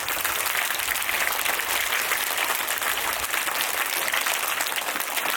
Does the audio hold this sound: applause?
yes